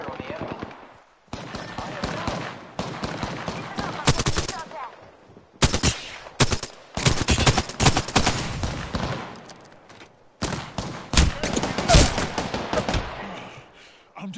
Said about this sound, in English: Are shooting at me. Opening fire.